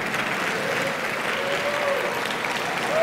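Hall audience at a networking luncheon claps steadily in a dense, continuous round of applause, swelling slightly toward the end with a faint voice in the room.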